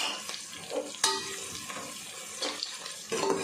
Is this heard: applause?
no